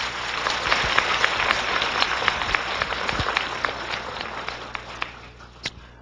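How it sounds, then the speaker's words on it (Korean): Audience applause at a lecture for expectant mothers, moderate clapping from a seated crowd that thins out and fades toward the end, with a few late isolated claps. "다시 한번 박수 부탁드릴게요."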